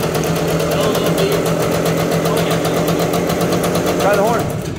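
A 1973 Honda MT250 Elsinore enduro motorcycle that had been sitting for 40 years idles up close with a rapid, even two-stroke putter and a loud, steady drone.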